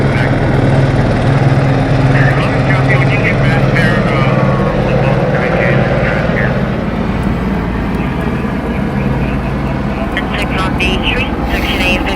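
Loud, continuous low thrumming of a helicopter overhead at night in Los Angeles, steady throughout, with muffled voices faintly beneath it.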